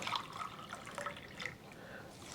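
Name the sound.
water being poured into a pot of rice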